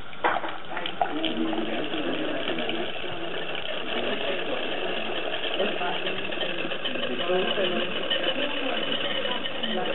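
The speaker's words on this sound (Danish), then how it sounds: "så tænder vi på vandet her, så vi får suget luften ud" Tap water rushes through a water-jet vacuum pump on a lab filtration setup used to make aspirin, a steady even hiss and gurgle that continues unbroken under occasional talking.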